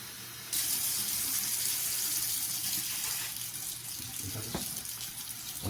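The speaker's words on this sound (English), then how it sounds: "So let me just put 2 cups of water in it." Tap water running steadily from a faucet into a pot of rinsed rice for sushi, a continuous close hiss and splash that starts abruptly and flows without pause.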